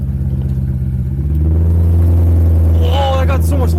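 A Lexus GS430 V8 engine rumbles at idle, then rises louder as the exhaust cutouts open, a deep steady drone close by with people talking and exclaiming over it.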